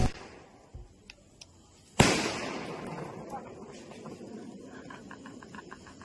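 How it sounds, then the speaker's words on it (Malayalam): A sky shot firework set off for the Vishu festival, a sudden sharp bang that decays into a crackling tail, with soft scattered sounds before it and faint popping afterward. "എന്തിനാ ആളുകള് പടക്കം പൊട്ടിച്ചേ? ഇന്ന് വിഷുവാ."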